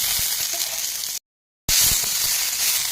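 Chili, jackfruit seeds and ghatkol stems fry in oil with salt and turmeric, a loud, close, continuous sizzle that cuts out briefly before resuming with a few scraping knocks.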